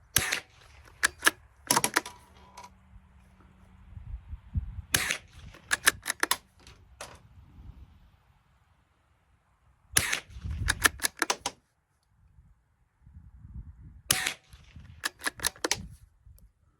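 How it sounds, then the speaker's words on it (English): Suppressed shots from a Ruger American .22 LR rifle ring out as sharp, close clicks and snaps in clusters, with the bolt cycling metallically between rounds amid quiet pauses. "Let's shoot a couple rounds suppressed, which here's the last 5 rounds of that magazine."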